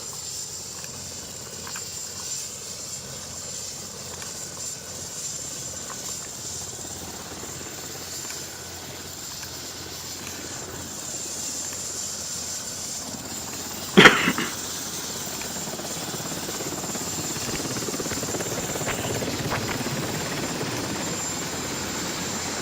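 A helicopter drones steadily throughout, its rotor noise a continuous broadband rumble from a replayed recording, with a brief sharp knock partway through and no talking.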